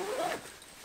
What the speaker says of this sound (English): It zips.